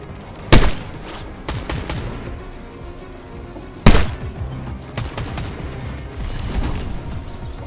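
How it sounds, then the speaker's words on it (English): Gunfire in the video game Fortnite, two sharp loud shots several seconds apart with scattered smaller pops and mechanical clatter between them. "Oh my god, I hear shooting."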